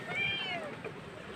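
A cat meows a few drawn-out times at low volume, with voices talking around it.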